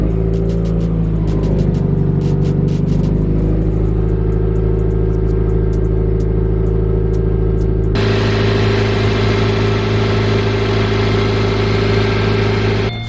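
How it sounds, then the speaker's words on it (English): Subaru Forester XT engine running at idle after a Perrin turbo inlet install, a steady close mechanical hum and whir that shifts to a slightly different, busier tone partway through, with no talking. "we're gonna start up the car and see if we have any leaks"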